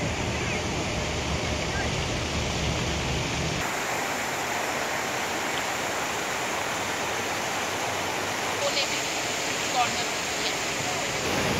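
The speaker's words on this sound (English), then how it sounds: "You probably hear the water and the plane" Rushing water of a huge memorial fountain at night in Washington DC roars loudly and steadily, a broad constant wash of splashing, with no clear speech over it.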